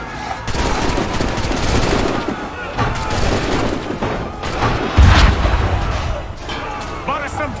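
Gunfire and heavy booms from the Assassin's Creed 3 video game, with cannon-like blasts and scattered shots mixed with battle noise and voices. One deep boom stands out midway.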